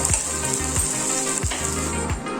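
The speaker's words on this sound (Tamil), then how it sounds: "ஆனியன் ரிங்ஸ் அப்படின்னு சொல்லுவாங்க அதை இதில் போட்டு ஒரு கிளறி விட்டு கிளறி விட்டு" Onion rings stirred through a sizzling pan of vermicelli vegetable pulao, a loud, steady frying hiss close up with rhythmic scraping strokes of a spoon repeating every half second or so.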